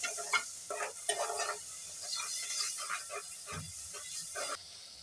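Onion and spices, including salt and ground cumin, sizzle softly in a pan for a steady hiss. Intermittent scraping stir strokes sound close by, and no one speaks.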